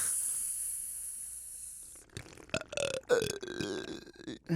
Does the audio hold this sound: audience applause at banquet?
no